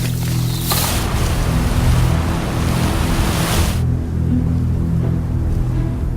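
Surf washing onto a remote beach in Holland, a steady loud roar of breaking waves with wind buffeting the microphone, no voices, the hiss easing slightly in the last couple of seconds.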